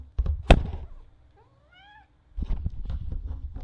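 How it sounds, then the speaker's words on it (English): A cat gives a single rising, wavering meow between bursts of clattering and thumping nearby. "My cat is causing utter chaos and destruction"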